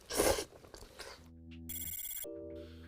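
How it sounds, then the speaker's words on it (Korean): A company messenger alert chimes on a work-from-home computer as a short run of clear, tonal electronic ring notes, fairly loud and close. Brief rustling and handling noises come before it. "마치 지켜보는 듯 울리는 회사 메신저에 다시 책상으로 향합니다"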